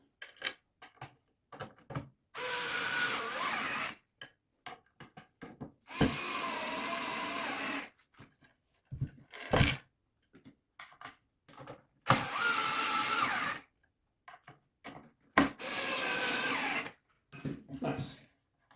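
An electric screwdriver drives screws into the wood of a Livarno Living bedside table, in several bursts of whirring a second or two long, separated by quiet gaps with small clicks and handling noises.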